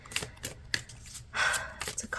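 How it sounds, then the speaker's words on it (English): A deck of tarot cards is shuffled by hand in short, quiet papery bursts, with a brief louder riffle midway and a soft breath heard nearby. "as I'm shuffling out your cards"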